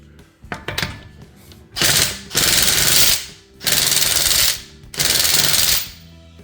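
A RIDGID 18V sub-compact 1/2 in cordless impact wrench loosens nuts. A few short rattles are followed by three loud hammering bursts, each lasting about a second, with brief pauses between them and no voices.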